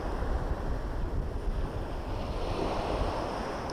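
Sea waves wash on the shore at Plaridel, Misamis Occidental, as a continuous loud rushing roar mixed with wind buffeting the microphone, with no talking.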